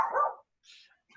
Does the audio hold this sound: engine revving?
no